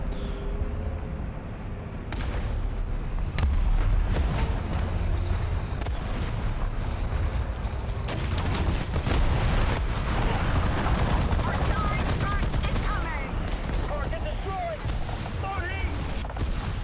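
Artillery barrage in War Thunder during a tank battle between an M41 and an M551, heard as repeated booming impacts over a continuous loud rumble of battle noise, with no talk over it.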